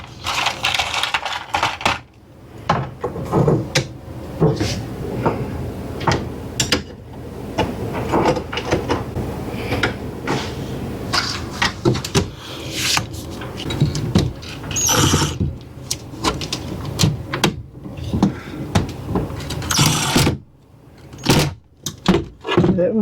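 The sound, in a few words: drill driving screws into motorhome kitchen counter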